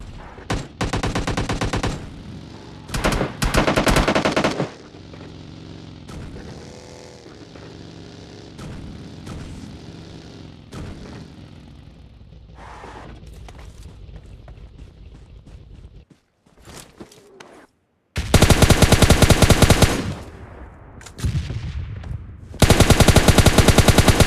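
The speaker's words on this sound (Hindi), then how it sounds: "यहाँ से कुछ गन साउंड आ रहे थे" Bursts of automatic gunfire and heavier booms ring out in a battle royale video game, arriving in loud clusters separated by quieter stretches, with dense rapid volleys near the end.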